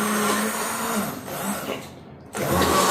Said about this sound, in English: this is my immersion blender